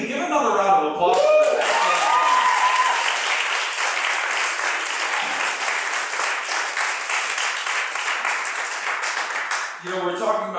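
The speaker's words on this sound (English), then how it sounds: "give another round of applause" An audience at a poetry reading breaks into a sustained round of applause, dense, even clapping held for several seconds after a short spoken introduction, with talk resuming at the end.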